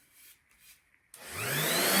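A blowtorch ignites with a sudden whoosh and roars steadily, close and growing louder, as it scorches a wooden axe handle after a brief quiet moment of faint handling sounds.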